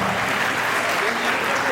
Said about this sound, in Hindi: आपकी तालियां बजनी चाहिए